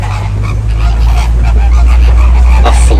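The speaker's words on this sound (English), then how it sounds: "They are the tallest, lightest pink flamingo species." Flamingos, the tallest, palest pink species, honk on a Disney's Animal Kingdom safari ride, a steady clamour of goose-like calls over constant vehicle rumble, with no talk.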